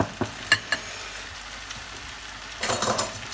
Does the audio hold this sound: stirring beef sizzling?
yes